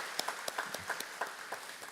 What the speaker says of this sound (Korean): 저희가 박수로 환영하도록 하겠습니다